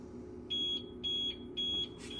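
A fire alarm panel gives three evenly spaced high electronic beeps, each about a quarter second long, clear and close over a low background hum.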